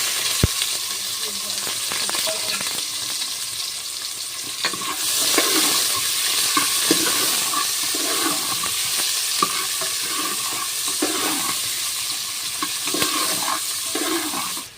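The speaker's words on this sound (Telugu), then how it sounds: "ఉల్లిపాయలు వేస్తున్నాను." Onions dropped into hot oil for a home-style pea fry, a loud continuous sizzle with stirring scrapes and clatter, close by and steady throughout, a brief voice underneath.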